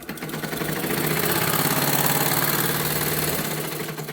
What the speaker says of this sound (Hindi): जितना आप इसे प्रेस करोगे उतना ही आपकी जो मशीन है वो फास्ट चलेगी